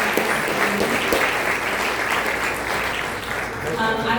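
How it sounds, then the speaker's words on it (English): An audience at a dinner panel breaks into sustained applause, dense and fairly close, with a voice rising over the clapping near the end. "Let's give another round of applause for our incredible."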